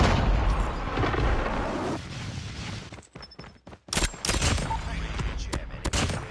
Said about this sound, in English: Friendly napalm deployed.